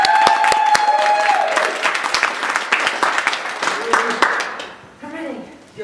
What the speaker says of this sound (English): let's have a big round of applause for Kate